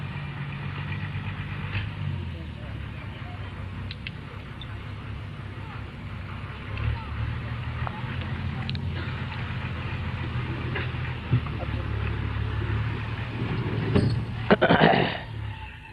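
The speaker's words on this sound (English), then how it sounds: "Ask them to stop the buses, please." Bus engines idle nearby with a steady low rumble that carries through the whole stretch, and a brief louder burst comes near the end.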